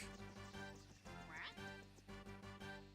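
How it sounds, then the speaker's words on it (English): Duck quacking in the online game Toontown Rewritten during a factory run, a short pair of soft quacks over quiet game music and background sound. "I heard a duck."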